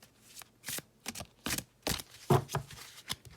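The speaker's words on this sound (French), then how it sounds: "je tire quelques cartes, 3 en fait, 3 cartes" Tarot cards are drawn and shuffled during a Libra reading, giving a quick series of crisp, close papery flicks and slaps in an uneven rhythm against quiet surroundings, with no talking.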